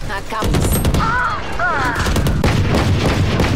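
Valorant gunfire and explosive booms rattle through a tense match, rapid shots and blasts packed close together under loud, continuous game noise, with whistling ability effects streaking by.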